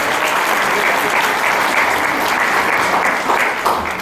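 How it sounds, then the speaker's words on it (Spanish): Loud, dense applause from a ceremony audience at an institute's anniversary conference, steady sustained clapping throughout with no pauses. "Vamos a darles un fuerte aplauso"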